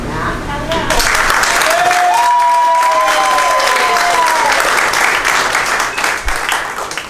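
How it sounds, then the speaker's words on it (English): Loud, sustained applause and cheering from a crowd at a Seattle city public meeting, rising to a full roar with whoops and shouts, then fading slightly toward the end. "we need a round of applause for Matt."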